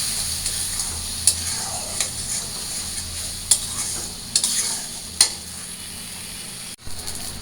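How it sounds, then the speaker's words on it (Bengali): Ginger, turmeric, chili and coriander spice paste frying in a pan, with a steady sizzle, scraping stirs and a few sharp utensil clicks against the pot, heard up close with no talk. "মশলাটা ভালো করে কষায় নিই।"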